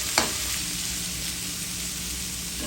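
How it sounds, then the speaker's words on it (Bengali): Cut papaya and carrot fry in a pan with a steady, close sizzle, opened by a brief clink of a utensil, with no talking. "এখন ভাজা ভাজা করে নিব।"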